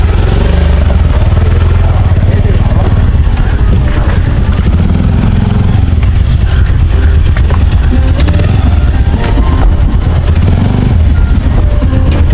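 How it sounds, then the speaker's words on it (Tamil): A motorcycle is loaded onto a jetty in Sri Lanka on a ride from Jaffna to Mullaitivu, its engine running loud and close alongside steady clattering and rumbling throughout. "இந்த பைக்கை நாங்கள் ஜெட்டியில் ஏற்றி அப்படி போக போகிறோம்"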